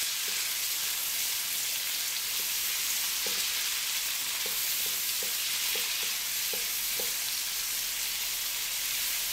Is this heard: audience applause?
no